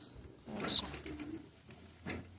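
A pigeon gives two short, soft coos a moment apart, fairly close, with light background noise and no clear talk.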